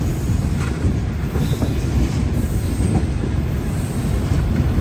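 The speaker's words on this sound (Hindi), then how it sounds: "और ये हमारी गाड़ी प्लेटफॉर्म पे दाखिल हो गई" A train pulls into a railway platform in Pakistan, a steady loud rumble of wheels on rails with faint squeals and clatter continuing throughout, no voices.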